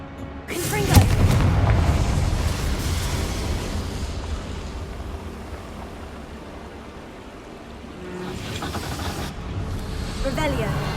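A Confringo spell blast in Hogwarts Legacy bursts loudly near the start, then a long rumbling decay fades out before another burst of noise rises near the end; a voice calls out the spell.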